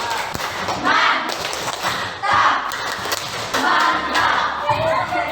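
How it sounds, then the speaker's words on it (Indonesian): A classroom group performs a rhythmic "tepuk mantap" clapping cheer in short bursts of claps under chatter and voices, moderately loud and close. "berikan aplaus tepuk mantap"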